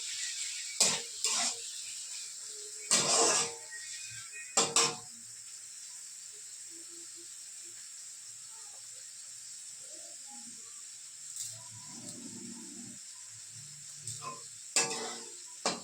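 Sliced onions fry with salt in a pan on a home stove, giving a faint, steady sizzle with a few sharp clinks and scrapes of a spoon against the pan.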